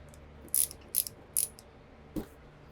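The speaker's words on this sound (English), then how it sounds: "Tighten the top triple clamp nut." A ratchet tightens the top triple clamp nut on a 1985 Yamaha FJ1100 motorcycle: three quick, close ratcheting bursts, then a single dull knock of metal, with no talking.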